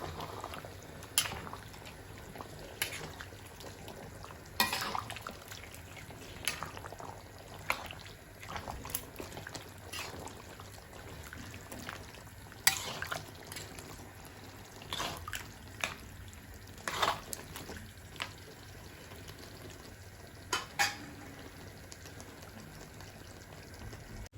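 Mutton pieces with their water being stirred into masala in a cooking pot for biryani: quiet, wet sloshing with irregular clinks and knocks of a spoon against the pot, spread across the whole stretch with no voice.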